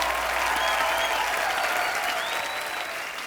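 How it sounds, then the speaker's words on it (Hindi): Loud, steady applause from a large television studio audience, sustained throughout with a faint whistle rising above it. "जोरदार तालियां"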